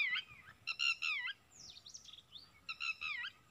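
Birds chirp in a jungle, giving several bursts of bright, warbling calls with short pauses between them, fairly close and clear over a quiet background, with no talking.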